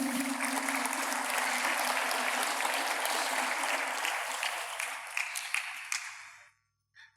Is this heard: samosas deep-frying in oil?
no